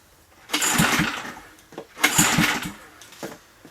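Two bursts of a small Mercury outboard boat motor sputtering and cranking without catching, each about a second long, with quieter pull-cord rattles and pauses between attempts.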